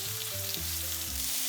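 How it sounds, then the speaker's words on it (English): A steak sears in a hot skillet with a steady, bright sizzle over a soft tonal background. "add your steak to your hot skillet"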